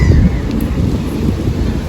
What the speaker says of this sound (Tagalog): Mahangin kasi ngayon.